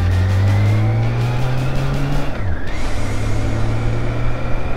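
A 2012 BMW K1600GTL six-cylinder touring motorcycle rolls slowly through town, its engine giving a loud, close, steady hum that dips briefly in pitch as it shifts, then settles back.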